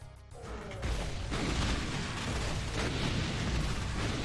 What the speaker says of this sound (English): Get some explosions going.